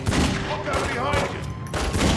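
Gunfire from The Godfather video game, a rapid burst of shots in a busy scene, mixed with voices and game clamor at close, loud level.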